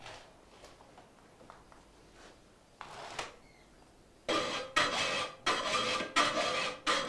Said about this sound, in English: First, he does a rough filing.